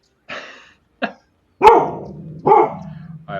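Rescue dog barking indoors, several sharp separate barks with gaps between them, close and loud, one bark trailing into a low growl.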